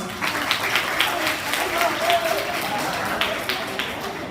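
An audience of young people at a Bangkok school for the blind alumni event claps steadily. The applause is dense and moderately loud throughout, with voices mixed in.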